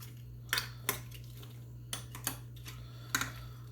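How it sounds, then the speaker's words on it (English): Metal tongs clack against a pan while tossing asparagus, several short sharp clicks in small pairs over a quiet steady hum. "Now we're going to take our tongs. Just going to mix them up there a little bit."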